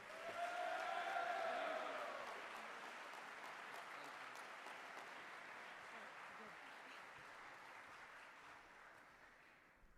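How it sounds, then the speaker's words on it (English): Applause for an award recipient at the University of Dubuque Sparty Awards ceremony, a dense, distant-sounding wash of many hands clapping, slightly louder at first, then steady and softer, with a faint voice early. "Let's give Nick a round of applause"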